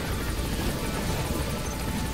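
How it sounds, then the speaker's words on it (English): Helicopter arriving at a landing zone in Metal Gear Solid V: The Phantom Pain, a steady loud rotor and engine roar filling the whole stretch with no talk. "Once you reach the LZ and the chopper is arriving"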